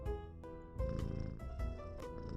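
A kitten held in someone's arms purrs in The Sims 3. The soft, rumbling purr runs low beneath gentle tonal background music.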